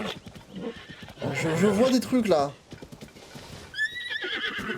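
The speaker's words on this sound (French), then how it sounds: "Ok, merci cheval random." A horse in Zelda: Tears of the Kingdom whinnies loudly with a rising, wavering neigh in the middle, with clip-clop hooves nearby and someone talking over parts of it.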